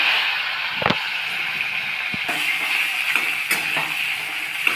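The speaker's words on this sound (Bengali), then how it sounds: "তো আলুটা আমরা হালকা একটু ভেজে নেব।" Boiled potato pieces, cut small, fry in white oil in a pan, giving a steady close sizzle with a few sharp clinks of a utensil against the pan.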